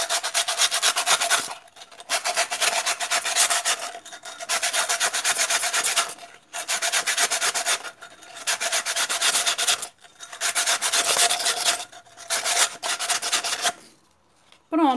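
Sandpaper rubs against the inside edge of a cut glass bottle in long, steady rasping strokes, loud and close, stopping with brief pauses about every two seconds.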